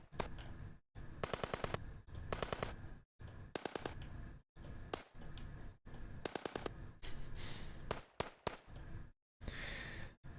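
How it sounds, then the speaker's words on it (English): AK rifle gunfire in edited footage, loud rapid automatic bursts in several runs broken by abrupt silent cuts, with heavy layered echo and a thick mix of background sound. "They're using AK,"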